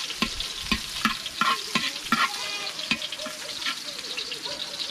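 Onions going into a frying pan for pansit habhab, with sharp taps and scrapes of a utensil over a continuous sizzle, close and fairly loud, with no talking.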